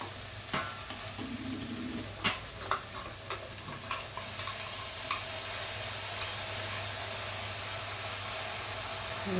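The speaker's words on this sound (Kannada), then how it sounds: "ಈಗ ಇದಕ್ಕೆ ರುಬ್ಕೊಂಡಿರೋ ಮಸಾಲೆ ಹಾಕ್ಕೊತೀನಿ" Ground masala paste is stirred into softened tomatoes in a hot pan for a green gram and raw banana gojju, giving a steady close sizzle with scattered scraping stirring clicks.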